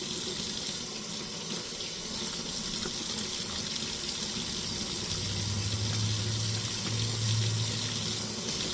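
Tap water runs steadily into a sink while a model body is being stripped of paint, a continuous hissing wash with a low gurgling tone that swells toward the end, with no talk over it.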